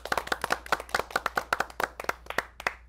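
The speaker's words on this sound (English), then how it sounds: "A big round of applause for them." A small group in a TV studio claps for the crew, with distinct, fairly close handclaps in a quick uneven rhythm that thin out toward the end.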